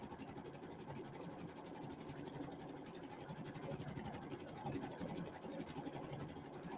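An embroidery machine stitches a fall-themed pillow, its needle hammering in a fast, steady mechanical rhythm with a constant motor hum, fairly quiet and uninterrupted.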